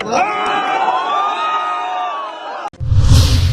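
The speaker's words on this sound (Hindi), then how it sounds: "मौके पर मौजूद लोगों ने खूब तालियां बजाई।" A loud crowd at an arm-wrestling match cheers and whoops with lively shouting, then the noise cuts briefly and swells again into a roar of cheering.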